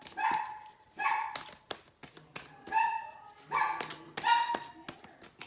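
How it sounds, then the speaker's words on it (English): A dog barks repeatedly nearby, about five sharp barks spaced roughly a second apart, with faint tapping in between. "He is a barker."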